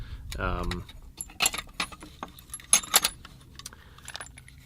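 Small metal socket set pieces of assorted sizes clink and rattle as they are dropped into a little tray, several bright jangling bursts up close, with a brief spoken voice at the start.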